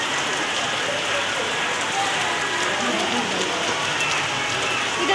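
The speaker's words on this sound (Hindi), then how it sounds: "देख रहे हैं हम बारिश अब की अब कब जैसे रुकती है" Heavy rain falls steadily outdoors near a temple fair, a loud continuous hiss of drops on surfaces throughout.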